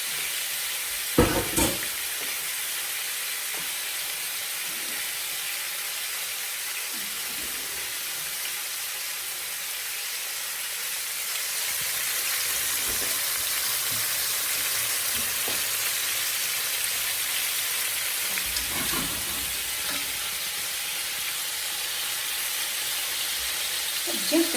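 Chicken pieces frying in a pan for a seafood paella, a steady broadband sizzle that holds evenly throughout and swells slightly midway, with a few soft clinks and stirs.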